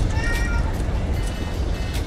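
A cat meows loudly and close by in a drawn-out cry over a rough, noisy background, with faint voices around it.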